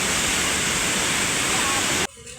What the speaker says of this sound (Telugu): ఆ గేట్ దగ్గర అయితే ఓపెన్ చేసి లేదు, ఎంత ఫోర్స్గా వాటర్ వస్తుందో